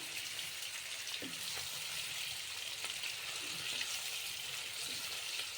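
Paneer frying in a pan, a steady, soft hiss and sizzle with faint crackles throughout, close and even with no talking.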